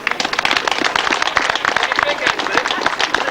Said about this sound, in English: I want a big round of applause